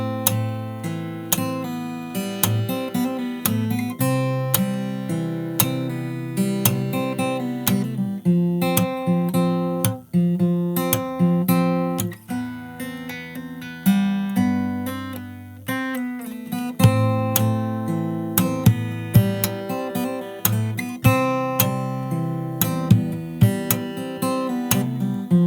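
Fingerstyle acoustic guitar plays a song's chorus, with percussive slaps and body hits on the guitar sounding at regular beats between the plucked chords, close up and with no voices.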